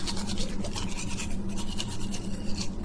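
A toothbrush scrubs briskly against teeth in rapid, rhythmic back-and-forth strokes, a close, loud bristly rasp that keeps going without pause and has no voices over it.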